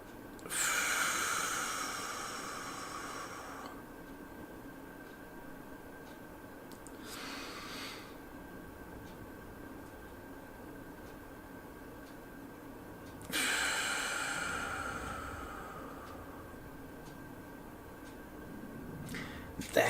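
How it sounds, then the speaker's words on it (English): A person demonstrates box breathing, with a long hissing inhale through the nose, a quiet pause, a softer breath, another quiet hold and then a second strong inhale, close and alone. "a very simple technique of box breathing, and I'll demonstrate this now, is breathing in for 4 seconds through your nose."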